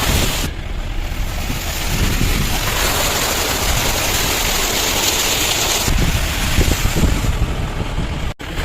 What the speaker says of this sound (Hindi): ये देखिए रोड पानी चल रहा है